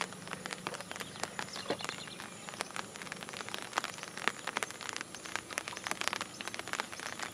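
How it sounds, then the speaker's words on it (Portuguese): Rain pattering steadily on the ground beside a lake during flood season, a dense hiss of many small drops with occasional sharper nearby splats, fairly faint and continuous with no voices. "Tá chovendo."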